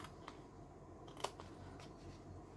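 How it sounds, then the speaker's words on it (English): Scissors snip through a paper journal flap, with a few soft, separate cuts and rustles, one sharper click near the middle, and no voices over a quiet room. "I'm going to cut this first"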